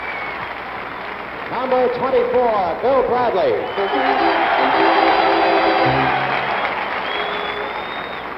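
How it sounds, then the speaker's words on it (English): An arena crowd applauds and murmurs as 1970 Knicks players are introduced, a broad wash of clapping and cheering that swells under a booming public-address announcer calling out names and numbers. "the audience stands and applauds Dave DeBusschere"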